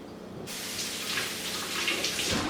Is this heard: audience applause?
no